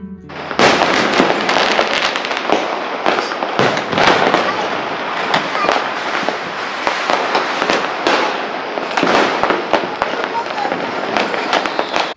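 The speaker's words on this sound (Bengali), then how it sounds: "আজকে আমাদের এখানে যা বাজি ফাটছে" Firecrackers and fireworks burst outside at night in a loud, dense, continuous barrage of cracks and booms with no pauses, while a voice is heard faintly beneath the noise.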